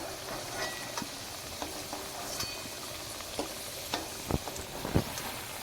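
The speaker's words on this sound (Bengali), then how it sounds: "আলুটা ভেজে নিয়েছি, লাল লাল করে তুলে নিচ্ছি।" Potatoes fry in oil in a pan for a mutton curry, giving a dense, steady sizzle close by. Occasional stirring clicks and scrapes against the pan punctuate it, with no talking.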